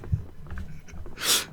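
A voice imitates Donald Duck sneezing, giving one loud, breathy, hissing sneeze burst near the end after a few soft, low vocal sounds, close and alone.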